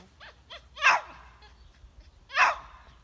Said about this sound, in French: Je vais détacher le chien parce qu'il crie.